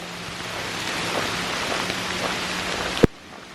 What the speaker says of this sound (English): It's raining a bit out here.